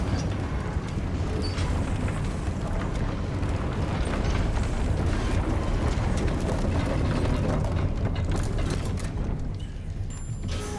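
A broken lift in Hogwarts Legacy grinds back into working order after a Reparo spell, a dense continuous churn of mechanical rumbling, clanking and ratcheting gear noise running steadily and loudly throughout, with no voices over it.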